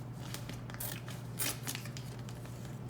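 Scissors cutting a strip off a sheet for a planner dashboard, faint crisp snips and rustles over a low steady hum, with one louder cut near the middle.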